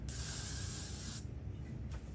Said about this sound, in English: We're gonna take our holding spray to lock it, to hold it in place.